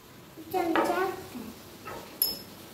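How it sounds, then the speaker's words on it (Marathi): A spoon stirs in a glass while jeera powder is mixed into a homemade drink, giving a brief run of clinking and scraping in the middle, with a sharp tap near the end. "एक हाताने ग्लास पकड आणि एक हाताने हलव"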